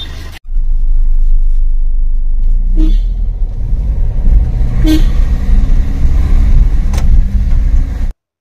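A car pulls up outside a house gate with a loud engine rumble, then its horn gives short toots, one sharp honk followed by two more, before the sound cuts off abruptly.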